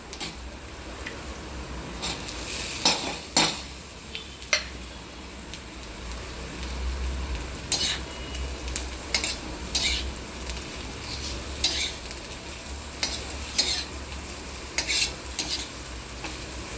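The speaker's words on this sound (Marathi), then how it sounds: "हे वांग आपल्याला याच्यामध्ये भाजून काढायचं" Onion and brinjal pieces stirred as they roast on a tawa, with repeated sharp spatula scrapes and clicks over a steady soft sizzle.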